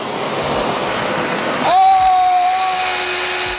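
A hair dryer runs on a solar inverter alongside other appliances, producing a loud, steady roaring blow. Partway through, a second motor joins in with a rising whine that settles into a sustained tone.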